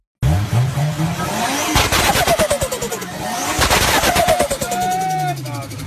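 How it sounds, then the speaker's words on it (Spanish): Turbocharger compressor surge, or turbo flutter, on a boosted car engine: loud rapid fluttering chatter bursts over engine roar, repeating in several waves, with a whistling tone near the end. "cuando ocurre una sobrecarga del compresor, también llamado aleteo del turbo, se produce un sonido muy característico."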